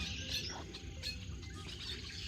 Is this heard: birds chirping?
yes